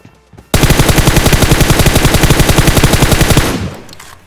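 Rapid automatic gunfire in the PUBG Mobile battle-royale game, a loud close burst of evenly spaced shots rattling for about three seconds before cutting off and fading.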